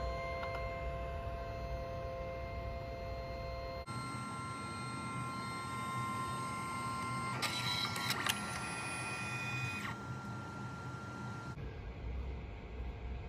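HPRT wireless mini photo printer feeding a print through, a steady mechanical whir with a sharper motor burst partway, shifting tone as the paper advances and stops, close and clear with no talk.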